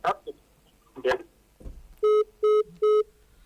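A phone call to a radio show cuts off: brief garbled voice bursts on the line, then three loud, evenly spaced electronic tones of a disconnected line.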